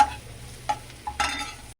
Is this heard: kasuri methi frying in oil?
yes